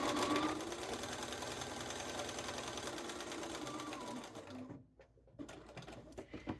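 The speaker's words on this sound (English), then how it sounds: "you're just going to sew up one side and cross over with a couple stitches and then sew down to the other side" A sewing machine runs steadily while stitching a cuffed sleeve seam on a duster coat, a continuous close mechanical whir that pauses briefly near the end before short bursts of stitching resume.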